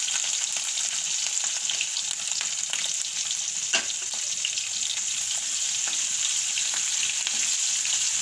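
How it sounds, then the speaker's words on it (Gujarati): Onion fries in hot oil in a pan with asafoetida and chillies over a lowered flame: a loud, continuous sizzle with frequent crackles and spits, plus occasional stirring scrapes, with no voices. "તો ડુંગળીને આપણે ઘડીક વાળાને તેલમાં સડવા દેવાની છે સેજ લાલ જેવી થઈ જાય"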